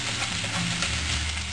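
Spareribs and vegetables stir-frying in a pan, a steady loud sizzle with soft scraping of stirring throughout, no voices.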